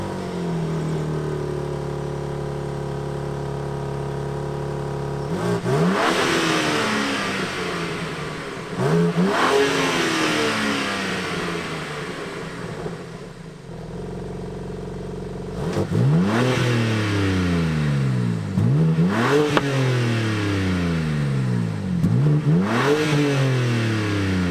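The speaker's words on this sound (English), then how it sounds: "we're out in a new BMW M4" A BMW M4 Competition with a 510 bhp engine accelerating hard on the road, revving up through several gears with clear upshift breaks, loud and steady inside the car with no talking.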